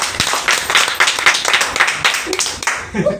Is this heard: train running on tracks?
no